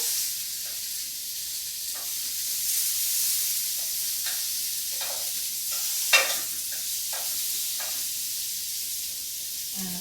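Fish sizzles steadily in a hot pan for tacos with a soft, continuous frying hiss, broken by light scraping and tapping as it is turned, one sharper clack standing out midway.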